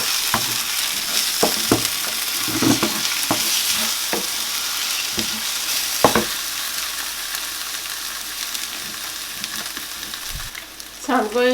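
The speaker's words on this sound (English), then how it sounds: "I am done frying it for 10 minutes" Mixed peppers sizzle steadily in a pan, a continuous close frying hiss broken by occasional clicks and scrapes of stirring.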